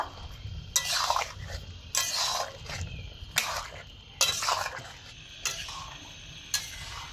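Mango chutney with raisins, cashews and a little salt stirred in a pan, a spoon scraping and clinking in regular strokes about once a second over a faint low sizzle.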